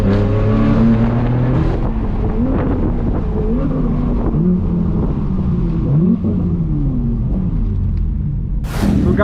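A straight-piped BMW M4 F82 driving to a cars and coffee meet, its loud exhaust roaring and rumbling up and down through gear changes, close and heavy with wind buffeting throughout.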